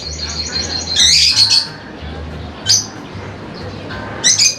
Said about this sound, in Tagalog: ibon na ito, pakaingay, kaya ayaw ko rito mag-vlog sa labas